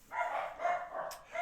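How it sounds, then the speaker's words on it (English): Dogs bark in a short burst of two or three yelps, moderately loud and a little distant, with no talk. "Sorry about the barking dogs."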